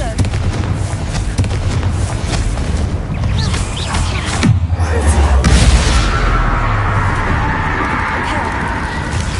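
Fiery Confringo spell blasts in the Hogwarts Legacy video game, a run of booming explosive bursts with a heavy low-end swell midway, set against busy game noise and a speaking voice.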